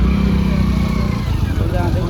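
Engine rumble of motorcycles close by in crowded traffic heading to a fair, steady and loud, mixed with a voice talking over the traffic noise.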